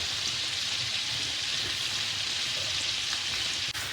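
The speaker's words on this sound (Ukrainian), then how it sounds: "Масло розстає, додаємо нашу картоплю." Steady, dense sizzling of young potatoes frying in butter in a hot pan, close and continuous, with a faint clink near the end.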